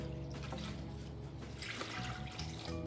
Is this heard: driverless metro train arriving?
no